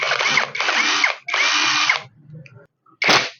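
Keelat cordless impact wrench running in loud, rattling bursts, three long runs back to back, a brief pause with light handling noise, then one short final burst, close up and with no talking.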